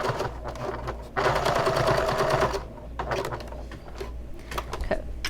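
A sewing machine stitches through layers of bag fabric in steady bursts, running continuously for a stretch and then in short start-stop runs, close and clear with no talking.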